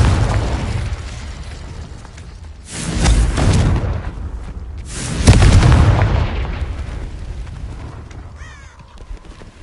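Confringo explosive spell blasts in the Hogwarts Legacy video game, two loud booming bursts a couple of seconds apart, each with a rumbling tail, over background game sounds.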